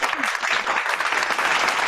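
A brief, dense burst of clapping from children in a club gathering, fast and continuous throughout, close and fairly loud.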